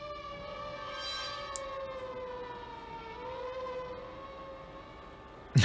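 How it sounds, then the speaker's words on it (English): An ambulance siren wails steadily with sustained rising and falling tones, somewhat distant, ending with a sudden loud noise close by. "That sounds more like an ambulance."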